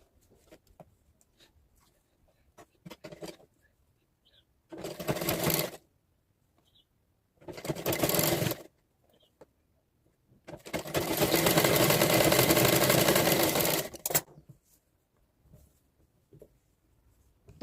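A sewing machine stitches a blouse belt with a half-inch margin, running in two short bursts and then one longer steady run of about three seconds. Quiet handling pauses separate the runs.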